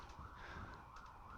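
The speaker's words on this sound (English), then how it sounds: "Or a freaking ambulance." An ambulance siren wails from the street through an open window, a wavering tone that stays steady and fairly loud across the whole brief moment, with no one speaking.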